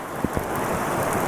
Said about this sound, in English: it is absolutely fucking pissing down rain right now